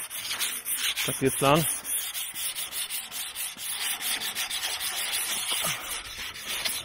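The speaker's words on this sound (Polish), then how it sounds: "Ślifujemy niedoskonałości, tak żeby farba docelowa wyglądała jak najładniej." Sanding by hand over imperfections on a painted metal garden fence panel, a steady rasping rub that repeats in quick strokes throughout, with a brief spoken line near the start.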